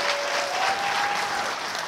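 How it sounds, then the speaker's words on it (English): A late-night show studio audience applauding, a dense, steady wash of clapping close and loud for the whole brief moment, with a faint voice underneath. "Big round of applause for them."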